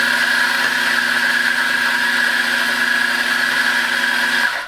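A Mazzer Super Jolly espresso grinder grinds coffee on a medium setting, a loud, steady motor whine with a constant pitch that runs unbroken before cutting off abruptly at the end.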